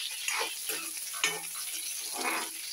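Curry leaves and green chillies sizzle and crackle in hot oil for a potato stir-fry, a steady close frying hiss broken by a few sharper pops and the occasional stir.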